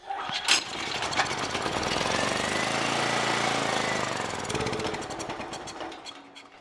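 A Generac GP7500E portable generator, choke on and with a carburetor that isn't flowing fuel well, is pull-started. The engine catches with a loud, rough, knocking roar close by, runs for several seconds, then fades and sputters off.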